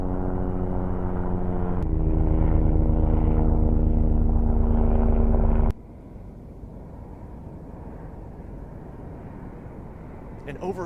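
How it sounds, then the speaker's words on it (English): A Joby electric VTOL air taxi hovers with a steady, multi-toned rotor hum that cuts abruptly to a quieter, softer whir. "And over here behind me is our aircraft in hover."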